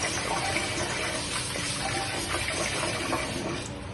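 Tap water runs steadily into a container holding peeled garlic cloves for rinsing, a constant close splashing gush with no talk over it.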